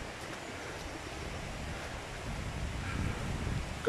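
Wind from the edge of Storm Franklin blows near the water, a faint, steady rushing gust that builds a little toward the end, with no voices.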